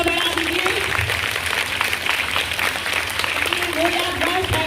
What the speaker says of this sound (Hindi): तो एक बार तालियों से उनका उत्साह बढ़ा दीजिए।